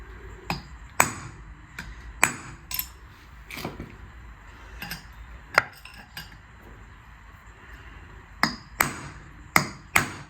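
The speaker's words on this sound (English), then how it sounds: "you hit it with a hammer and you do it around the perimeter of that outer race" Sharp metallic hammer strikes on the outer race of a Mercedes E 220 BlueTEC W212 front wheel bearing ring out one at a time at an irregular pace, some in quick pairs, with short quiet gaps between blows.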